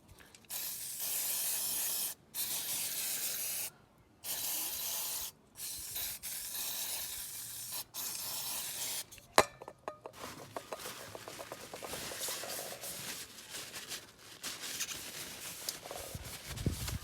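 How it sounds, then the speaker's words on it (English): Several short bursts of brake cleaner spray from an aerosol can separated by pauses, then a longer stretch of hissing spray mixed with scrubbing and rubbing over oil residue on a BMW S1000RR motorcycle, close up. "spray some chain clean or brake clean here where you have the oil residue"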